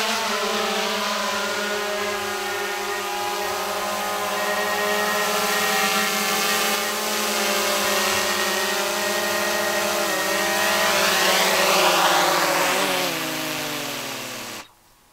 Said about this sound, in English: You're a good little drone, just doing all this work for us.